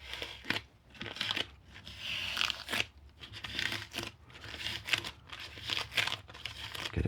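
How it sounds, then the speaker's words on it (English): Protective plastic film peeled off the body of a Schecter Hellraiser Hybrid C7 guitar, a close series of crackling, crinkling rips in uneven bursts with short pauses, no talking. "When you come to take it off, you can just peel the whole thing like that."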